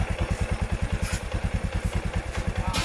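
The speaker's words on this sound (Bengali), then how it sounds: "তো এখন আমরা গাড়িটিকে স্টার্ট দেবো, বাইকটিকে স্টার্ট দেবো" A Bajaj Discover 100 motorcycle with freshly replaced engine bearings runs close by, its engine thumping in a fast, even rhythm like a steady idle, loud and unaccompanied by voices.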